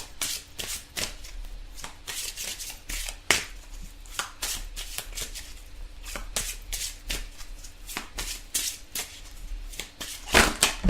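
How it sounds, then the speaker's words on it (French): Oracle cards are shuffled and tumble loose, producing repeated crisp riffling slaps and flutters, close-up and fairly loud, in quick irregular bursts over about eleven seconds. "Oups, alors, toutes les cartes sont tombées"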